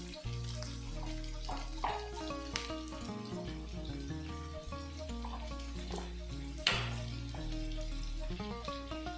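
Onions with turmeric powder and salt sauté in a pan for a Kerala green peas kurma, a soft steady hiss with light crackling, set under continuous background music.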